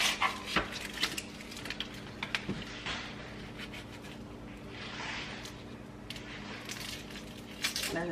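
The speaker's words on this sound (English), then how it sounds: "There's a dog in there somewhere that has some sort of paper wrapper, something." A dog plays roughly with a paper wrapper in a home kitchen, giving scattered crinkles, thumps and scuffles, with occasional clatter nearby and faint talk in the background.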